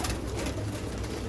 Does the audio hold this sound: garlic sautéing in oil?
no